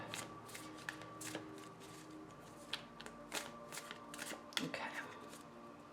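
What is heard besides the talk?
shuffling Anna K tarot deck cards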